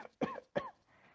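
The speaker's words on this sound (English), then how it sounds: "Sam began to cough." Two short, sharp coughs in quick succession from a nearby person, followed by a brief quiet tail.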